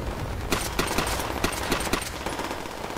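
Rapid gunfire bursts in World at War crack out repeatedly across the whole stretch, sharp and fairly close over a dense, noisy battle backdrop.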